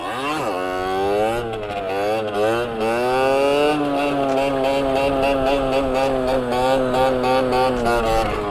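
A stock 50cc motorcycle engine revs hard and steadily during a wheelie, its buzzing pitch climbing and holding high for several seconds, loud and close with no talk over it.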